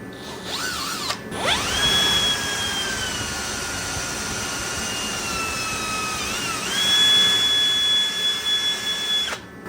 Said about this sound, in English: I hate drilling in plastic.